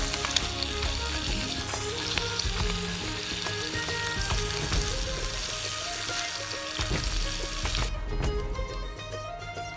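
Bacon sizzles and spits in a pan on a Trangia 25-5 UL camping stove at a morning campsite, a steady dense crackling fry with scattered pops, fairly faint and continuous throughout.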